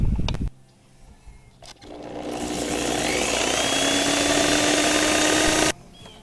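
A polishing machine fitted with a 50 grit pad works a piece of agatized wood, spinning up after a short pause into a steady, loud grinding whine that holds for several seconds, then cuts off abruptly.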